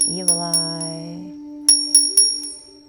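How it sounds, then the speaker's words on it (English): A bell is rung to clear negative energy, with a sustained bright ring followed by a second series of struck tones that decay between hits, close and clear with no talk over it. "I'm going to ring the bell."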